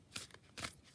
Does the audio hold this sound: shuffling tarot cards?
yes